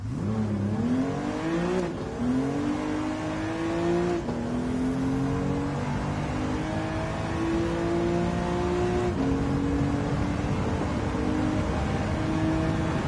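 A car engine in Gran Turismo 7, driven from a low seating position in VR, revs up steadily, dips at gear shifts around two, four and nine seconds, and climbs again, loud and continuous with no talking.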